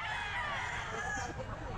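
Rooster crowing amid a busy Grotto pet market, a dense murmur of crowd noise and talking voices running underneath the bird's call throughout.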